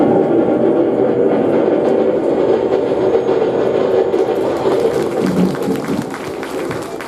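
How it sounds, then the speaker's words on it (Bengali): A train pulls out of a station, a loud, dense rumble of rolling rail cars with faint clatter that stays close and steady, then eases slightly toward the end. "ওই যে দেখছিস স্টেশন থেকে ট্রেন ছেড়ে যাচ্ছে"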